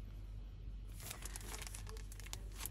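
A new plastic storage pouch for a set of Tulip Japanese bamboo knitting needles crinkles up close in a steady run of soft rustles and crackles after a quiet start, with no talking.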